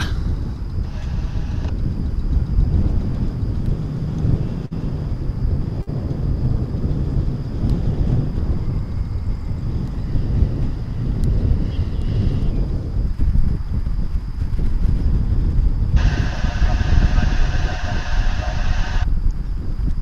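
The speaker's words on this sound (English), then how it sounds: "It feels a little gustier than that to me." Gusty wind buffets the microphone at Dallas/Fort Worth International Airport, a steady low rumble that swells and eases throughout, with brief higher-pitched mechanical tones in the background and no talking.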